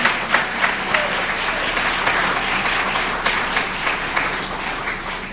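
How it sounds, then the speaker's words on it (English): Sustained audience applause at a community support event for Imam Jamil Al-Amin, honouring the organizers; steady dense clapping fills the room throughout, with no talk over it. "So we should give a round of applause and a big shout out to the organizers"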